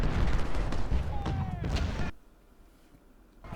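Artillery booms and gunfire rumble across a Civil War battlefield in the strategy game Ultimate General: Civil War, loud for two seconds before dropping to a quiet background, with someone talking over it.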